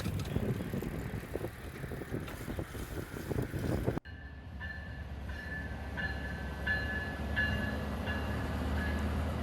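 A bicycle rolls through Chicago past metro trains and a switcher engine, with rumbling road noise giving way to steady rail sounds and a series of repeated tonal squeals or horn-like notes.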